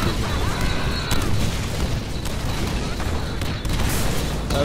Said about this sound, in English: There's grenades everywhere.